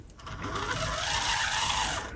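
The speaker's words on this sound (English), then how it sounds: "the gears and things inside very, very dry, and it's a little bit whiny as it moves back and forth" A 7mm narrow gauge Hunslet model locomotive with very dry internal gears gives a steady, close whine as it runs back and forth, a continuous mechanical drone on its own with no talking.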